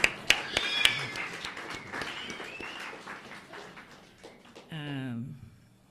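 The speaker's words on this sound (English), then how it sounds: "Can we give Stephanie a round of applause for that great reading?" An audience at a talk gives a brief round of applause with scattered claps at first, fading out under murmuring before a voice speaks.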